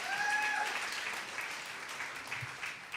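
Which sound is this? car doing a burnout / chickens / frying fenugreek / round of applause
round of applause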